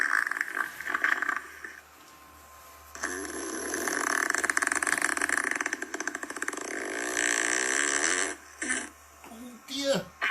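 A comedy fart sound effect plays during a lockdown quiz: a long, loud, buzzing blurt that lasts several seconds, followed by a few shorter sputtering bursts.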